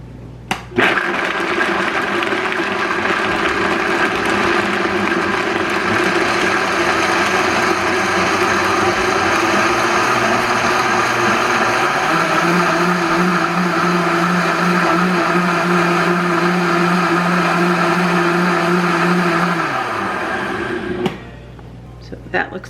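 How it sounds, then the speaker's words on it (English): A kitchen blender purées roasted red pepper sauce for a whole food plant-based pasta dish, whirring loud and steady for about twenty seconds, its motor pitch shifting partway through before it winds down and stops. "I'm gonna blend it up and see how Dana reacts."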